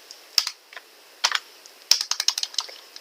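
Code typed on a computer keyboard during a programming session, with quick irregular bursts of close, light key clicks and short pauses between them.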